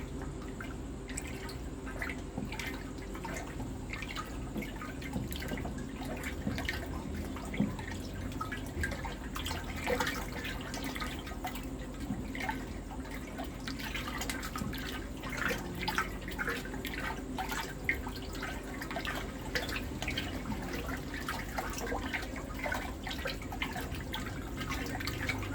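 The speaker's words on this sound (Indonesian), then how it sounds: "setelah itu kita lakukan pencampuran dengan mengaduk ya." AB Mix fertilizer being stirred into water, a long stretch of soft sloshing and dripping liquid sounds with small irregular splashes, steady and fairly quiet, no one talking.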